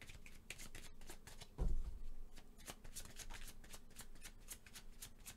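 Tarot cards being shuffled during a reading, a steady run of quick papery riffles and soft slaps close by, with one heavier bump of handling partway through and no talking.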